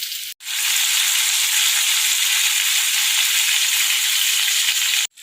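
Potatoes, tomato and peas fry in a pan, giving a loud, steady, close sizzle that runs unbroken after a brief pause at the start and stops abruptly at the end.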